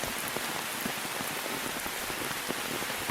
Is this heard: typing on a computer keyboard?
no